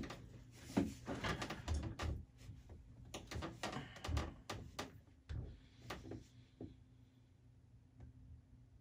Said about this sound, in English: I'm going to adjust my seat